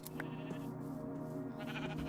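Sheep bleating in Minecraft, a single wavering synthetic baa held for about two seconds, clear and close, with no talk over it.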